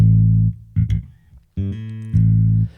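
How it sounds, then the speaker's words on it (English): A bass guitar plays alone, low sustained notes in a few separate phrases with brief gaps between them, fairly loud and close. "go ahead and solo the bass guitar here and have a listen to it"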